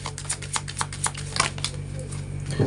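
Tarot cards shuffled and drawn from a deck: a rapid run of crisp riffling snaps and flicks close by, thinning into a few softer slides at the end, over a low steady hum.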